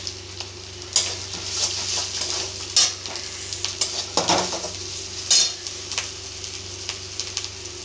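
Ground cumin and spices sizzle in a hot pan with fried onion, ginger and garlic while a spoon scrapes and stirs, with repeated metallic clinks and scrapes over a steady frying hiss.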